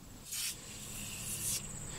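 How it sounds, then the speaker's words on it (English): Glass cleaner is sprayed onto the inside of a car windshield in two short, sharp hissing bursts about a second apart, close by and fairly quiet, with a faint background between them. "When you spray it onto the glass like that,"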